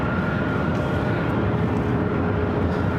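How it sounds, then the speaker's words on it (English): A French Bee airliner departing LAX heard as a loud, steady jet engine roar with a broad rumbling wash, alone and without talk. "We'll do our official top of the hour as soon as French B takes off here."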